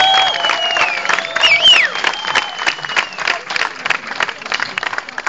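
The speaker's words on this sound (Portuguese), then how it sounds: "uma salva de palmas" An audience applauds and cheers for a band at a live show in Madeira, with dense, steady clapping and a few whistles rising over the crowd noise.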